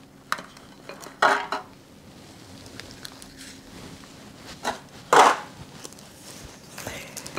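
Sugar-free banana bread lifted out of a baking pan lined with wax paper: a few light metallic clinks and scrapes of the pan, two louder knocks among them, with quiet kitchen room noise between.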